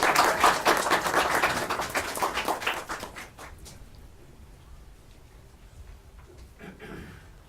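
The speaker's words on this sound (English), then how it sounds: "Big round of applause." Applause at a Rialto Unified School District board meeting, a dense patter of many hands clapping that is loud for about three seconds, then thins into scattered claps and fades out.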